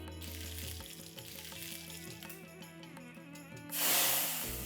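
Mustard seeds and curry leaves spluttering in hot oil in a tempering pan: a faint, steady crackle under a soft tonal background, then a sudden loud hissing sizzle that swells and lingers near the end.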